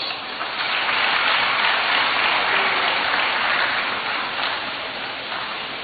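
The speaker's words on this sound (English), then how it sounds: "Let us welcome him with a round of applause." Audience welcoming the President of the Republic of Ghana with a round of applause, a continuous, hissing wash of many hands clapping that swells early and then eases slightly.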